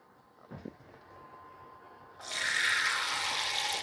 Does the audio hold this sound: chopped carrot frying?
no